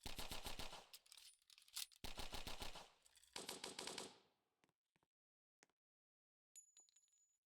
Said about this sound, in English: so let's fire off some rounds here.